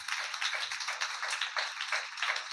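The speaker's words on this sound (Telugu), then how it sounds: "చప్పట్లు కూడా దేవుని మీద" A church congregation claps for God in a fast, continuous burst of applause, dense and lively, with no voices over it.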